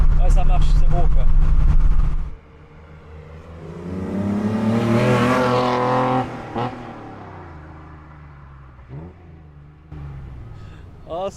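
A Nissan Skyline Hakosuka with a swapped L28 engine and five-speed gearbox revs up close and loud, rising to a strong peak and then falling away, with talk over the engine at the start and end.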